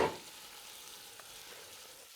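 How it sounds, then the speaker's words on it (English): Beef for a Saudi-style kabsa is stirred and sautéed in a pan, opening with a brief scraping clatter before settling into a quiet, steady sizzle, with no one speaking. "I want to give it a nice stir and saute the meat."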